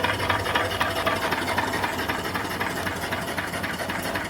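A homemade steam engine runs on its own upright steam boiler with a stepped base, ash pan and draft door, giving a steady, loud mechanical chuffing and hiss that carries on without pause and with no talk over it.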